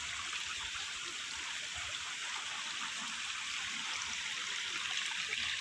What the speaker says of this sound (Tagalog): pumasok na yung tubig